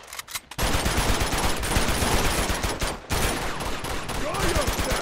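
Rapid automatic gunfire in a firefight in the video game Uncharted 2 comes as dense, loud bursts with a short break midway and continues almost throughout.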